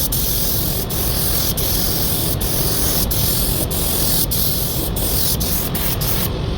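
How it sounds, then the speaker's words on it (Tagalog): Continuous loud aerosol spray of plastic promoter onto a car bumper under repair, a steady broadband hiss broken by brief pauses at roughly one-second intervals, with no talking. "Promoter, plastic promoter pag mag-repair tayo."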